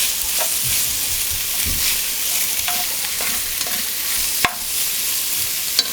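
Soup ingredients frying and being stirred in a pot for Zuppa Toscana, a steady close sizzle broken by a few sharp scrapes and clinks of the spoon, with no talking.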